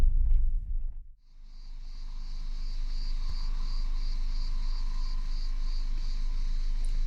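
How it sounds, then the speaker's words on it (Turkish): Cicadas in the Taurus mountains near Üzümdere, a dense continuous high-pitched pulsing drone sounding steadily outdoors after a brief rumble at the start. "Ağustos böceklerinin senfonisi var dışarıda."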